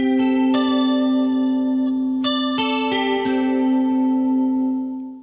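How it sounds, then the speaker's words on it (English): Sustained guitar chords shimmer through a chorus effect, giving a wavering, watery sound, with new strums at a few points before the tone fades. "Effects such as chorus,"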